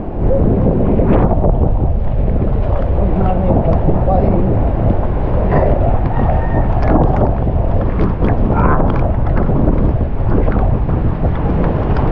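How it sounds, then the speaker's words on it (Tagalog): Strong wind buffets the microphone in a loud, continuous roar near a boat, with faint voices and water noise mixed in underneath. "lakas ng hangin ah."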